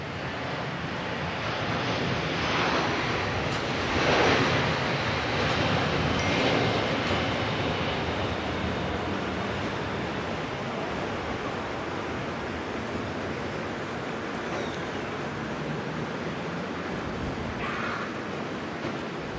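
An Air China Boeing 787 Dreamliner takes off at night at Auckland Airport, a steady broadband jet roar that swells slightly early on and holds at a distant, even level throughout, with no talking.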